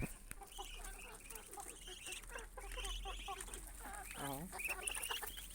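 Free-range domestic chickens kept with ducks cluck and chatter repeatedly close by, a busy flock of short calls over a low hum, with someone speaking briefly.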